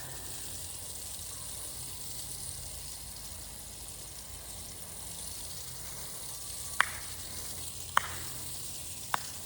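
Water sprayed steadily from a hose onto garden plants such as lettuce, chard and kale, a constant faint hiss running throughout with a few sharp clicks near the end.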